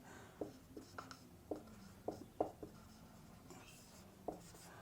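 Chalk or marker taps and short scratches on a board during a chemistry lesson on ethers, sparse and faint, coming in irregular strokes against quiet room tone.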